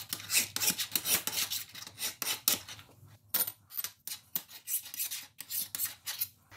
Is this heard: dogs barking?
no